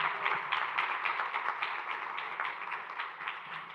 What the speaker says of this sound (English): Can we all give him a round of applause as well again?